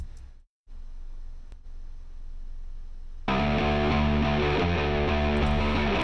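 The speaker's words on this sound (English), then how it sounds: "There's a verse bass part, which is like kind of mid-rangey, has a lot of gain." A thick, heavily overdriven bass guitar plays a droning mid-range tone with a lot of gain, starting quieter and then jumping louder and fuller after a brief dropout.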